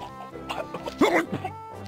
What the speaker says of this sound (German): Das ist ein erstickender Pirat.